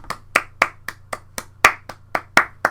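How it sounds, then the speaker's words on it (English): Clapping by one or a few people in a podcast setting, about ten distinct, fairly evenly spaced claps with a low steady hum underneath and no talking. "Come on, clap."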